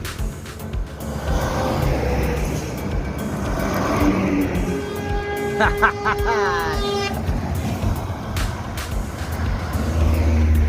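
The ABG bus Sembodo, starting from Bukit Tinggi in West Sumatra, pulls away for Jakarta with a loud, continuous engine rumble and a brief multi-tone horn melody sounding midway.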